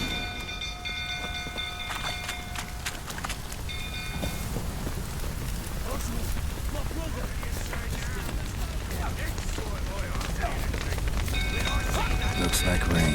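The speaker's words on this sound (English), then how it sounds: "Looks like rain." Steady rain pours down in The Witcher 3 video game, a dense continuous hiss that builds slightly over time, with game music tones and some voices in the background.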